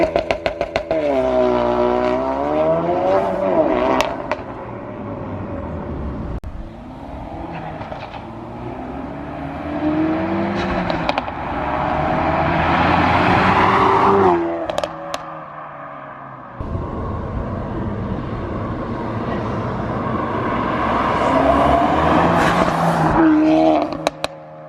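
A Mini Cooper RS engine fitted with a new loud exhaust revs repeatedly, rising and falling in pitch for about twenty-five seconds. It is loud, close and continuous, with no voices.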